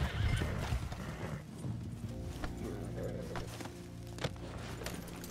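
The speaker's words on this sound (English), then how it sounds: "I'm gonna catch a ride until Clint, my horse, comes along." Horse in Red Dead Redemption 2 neighs and whinnies loudly at the start, then its hooves clip-clop steadily through the rest, with occasional thuds and a faint voice underneath.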